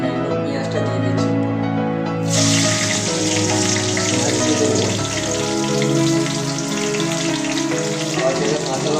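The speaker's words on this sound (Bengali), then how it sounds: "আমার এটা হয়ে গেছে, আমি পেঁয়াজটা দিয়ে দিচ্ছি।" Sliced onions drop into hot oil already seasoned with whole spices, including cinnamon, setting off a sudden loud, hissing sizzle that stays strong and steady. Faint tonal background sound sits underneath.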